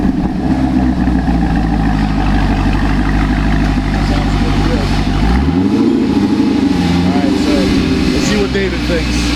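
A C6 Corvette Z06 with its LS7 V8 and AWE exhaust idles loudly and close, a deep steady rumble that swells with a brief rev midway while people talk over it.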